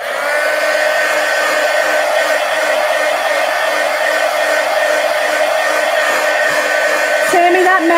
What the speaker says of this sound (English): let me dry this.